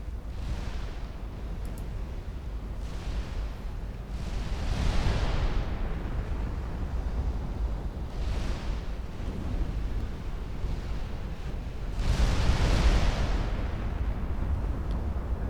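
Naval ship gunfire and explosions in the Ultimate Admiral Dreadnoughts warship game, a steady low rumble with several heavy booming swells rising and fading at intervals, distant and muffled.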